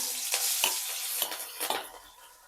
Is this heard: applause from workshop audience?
no